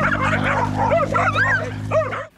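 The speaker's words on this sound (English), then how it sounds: "Today, only the one small female wanted to come out and bark." A small female stray dog barks repeatedly at close range on a rural walk in Yucatán, a run of sharp yips and barks over a steady low engine-like hum.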